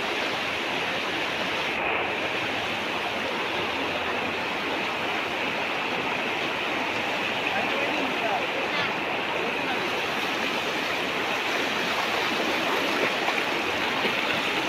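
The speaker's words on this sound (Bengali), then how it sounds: "বেদাগর স্পিড আছে জল।" Fast, rushing flood water pours through Assam's Hailakandi area in a steady, dense roar that stays loud and unbroken throughout, with a faint voice now and then beneath it.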